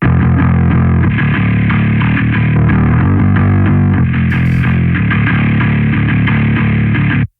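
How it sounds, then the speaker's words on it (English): Loud, gritty distorted bass guitar through a Darkglass Ultra, playing a continuous modern metal riff, thick and grinding with mid-range growl, ending abruptly. "Dark Glass Ultra always gives you that grinding mid-range sound that you hear in modern metal bass tones"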